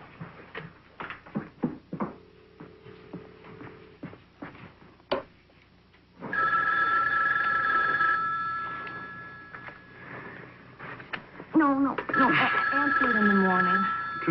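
An old landline telephone rings with an electronic bell in a 1976 horror film scene, steady tones that pause and resume, following clicks and faint sounds. Voices overlap near the end.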